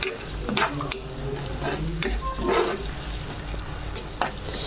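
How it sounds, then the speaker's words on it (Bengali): Potato and brinjal curry with tomato being stirred in a pan after water is added, with scraping and clattering of the spoon against the pan over a low simmer, and a dog barking briefly in the background. "জল দিয়ে এবার আমি ভালো করে এটাকে নাড়াচাড়া করতে লাগলাম"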